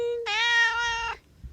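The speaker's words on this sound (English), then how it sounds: "She's going to meow her head off." A single drawn-out meow from a house cat named Itchy, loud and close, rising then holding steady for about a second before cutting off, followed by a faint soft thump.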